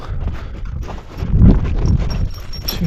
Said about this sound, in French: Troupeau de vaches.